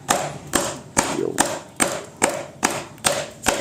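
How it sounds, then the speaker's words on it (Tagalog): Small hammer tapping repeatedly on a car battery, about eight sharp knocks in a steady rhythm, close and fairly loud with no talking. "Napakaliit kasi ng martilyo no."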